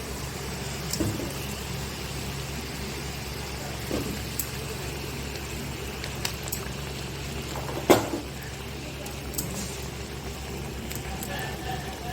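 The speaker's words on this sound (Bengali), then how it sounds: "আমার ঝোলটা ফুটে গেছে" Silver carp kalia gravy with slit green chillies bubbling in a pot: a low, steady simmer with a faint background hum and a single sharp clank near the end.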